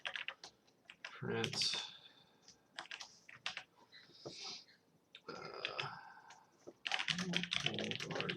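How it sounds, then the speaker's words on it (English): Typing on a computer keyboard while coding in Python, with bursts of quick close key clicks separated by short pauses and a brief spoken word between them. "so I'm just going to go ahead and start typing this."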